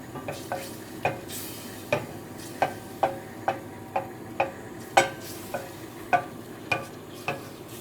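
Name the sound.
stirring macaroni cheese sauce in pan until melted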